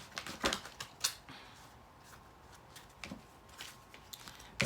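Cards being pulled and handled from a Keepers of Light Oracle deck, giving a scattered run of sharp taps, flicks and rustles, close and fairly quiet, with a louder snap at the very end.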